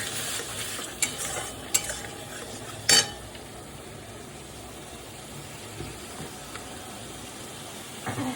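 Spices for a katla fish curry, including chilli powder, turmeric and salt with a splash of water, sizzle softly in a pan as a spoon scrapes and stirs, with a few sharp clinks against the metal.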